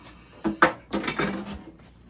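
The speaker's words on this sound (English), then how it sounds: "Now all you do is just quickly stir it up good." A spoon scraping and clinking against a pot while peanut butter fudge is stirred, a few quick uneven strokes with a brief metallic knock, close and moderately quiet.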